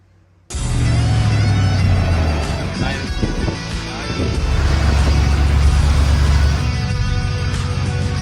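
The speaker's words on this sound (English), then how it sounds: "Right, tearing up tyres now." A car tearing up its tyres, a sudden loud engine roar that holds steady with low rumbling and rising revs, heavy and close throughout.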